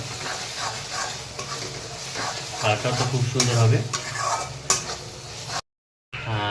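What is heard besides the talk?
stirring onions and powdered spices frying in oil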